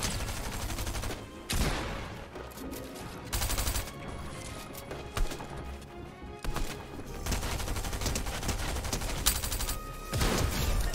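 Rapid gunfire bursts from a shooter video game played on controller, loud and dense with music-like game audio, repeated volleys across the whole stretch and brief pauses between them.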